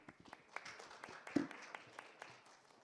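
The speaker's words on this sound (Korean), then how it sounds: "큰 박수로 모시도록 하겠습니다." Faint, scattered clapping from a small audience at a Changwon city labour-management cooperation meeting greets a presenter, a light patter of hands fading within a few seconds.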